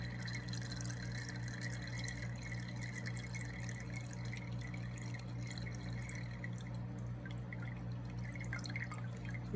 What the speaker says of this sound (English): I'm just going to drain this back into my water pitcher.